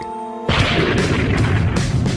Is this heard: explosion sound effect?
yes